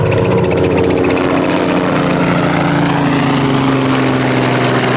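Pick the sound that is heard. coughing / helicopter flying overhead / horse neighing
helicopter flying overhead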